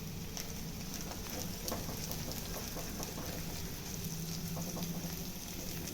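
Fresh green curry leaves crackle and spit in hot oil during cooking of a fish-fry and kera kuzhambu meal, a dense, steady sizzle with scattered pops, close and continuous throughout.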